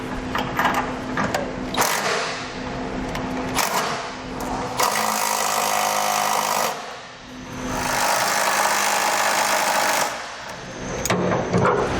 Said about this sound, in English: Now we're going to go ahead and tighten down our side plate bolts that connect to our cross members.